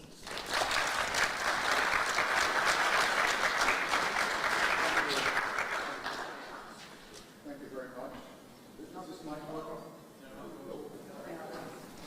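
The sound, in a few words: audience applause welcoming a speaker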